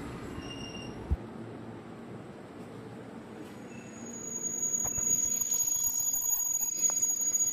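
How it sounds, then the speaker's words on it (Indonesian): KRL commuter train on the Cikarang Line pulling into a station, a steady rumble of cars building louder toward the end, with high wheel or brake squeal tones running above it. "Akhirnya datang juga nih kereta yang ke arah Cikarang Line via stasiun Manggarai"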